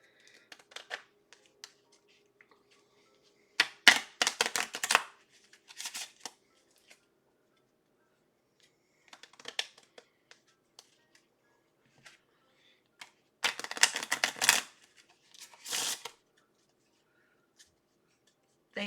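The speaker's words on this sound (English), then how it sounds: "I'm going to shuffle the cards a few times while people think about it." Deck of cards shuffled at a tabletop game session: several separate riffle bursts, crisp and close, in short clusters spaced by quiet gaps with faint taps between them.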